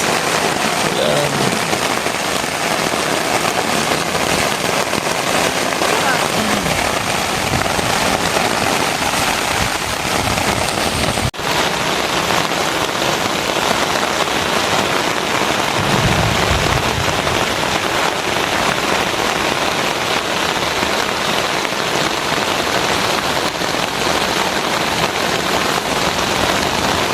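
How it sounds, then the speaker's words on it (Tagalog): Rain pours hard and unbroken onto a black cot tent pitched at a motorcycle campsite, a loud, even hiss and patter close overhead that lasts throughout, with no voices. "So, malakas ng ano rito ang ulan."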